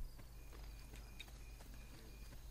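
Horse hooves clip-clop in the Italian Renaissance world of the video game Assassin's Creed 2, a steady walking rhythm of quiet, repeated hoof hits over a low background hum.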